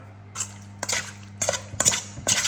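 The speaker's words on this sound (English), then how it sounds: "Going to mix that all together." A spoon clinks and scrapes against a bowl while a sesame oil marinade for claypot chicken rice is mixed, several separate sharp stirring bursts over a low steady hum.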